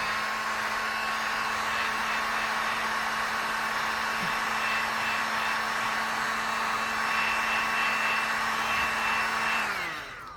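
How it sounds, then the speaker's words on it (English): A hair dryer whirs steadily at close range with a high whine and airy rush, running for several seconds before switching off at the end. "I'm going to run the dryer just for a second, just so you can see"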